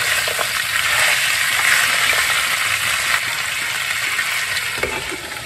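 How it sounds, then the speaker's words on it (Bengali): Shukto vegetables stir-fried in a pan hiss and sizzle steadily at close range, with scraping stirs and a brief clatter near the end as the pan is covered. "একটু নেড়ে ঢাকা দিয়ে দিই"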